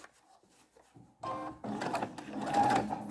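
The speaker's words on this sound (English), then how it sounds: "and stitch the elastic down" A sewing machine stitches elastic onto a triple-layer washable fabric face mask, starting with quiet handling noises and then running in a steady, loud whirring burst with a brief pause before continuing.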